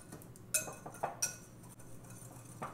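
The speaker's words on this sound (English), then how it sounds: "Now we're gonna mix that together." Spicy brownie ingredients being mixed in a bowl, faint scattered clinks and taps of a utensil against the bowl, a few sharper knocks in a quiet room.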